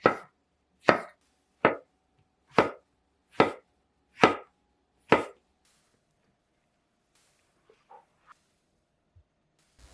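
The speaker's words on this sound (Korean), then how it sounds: "생 표고버섯은 먹기 좋은 크기로 자르세요" Knife chopping fresh shiitake mushrooms on a cutting board: seven crisp, evenly spaced chops, close and clear, followed by a few faint, scattered kitchen clicks.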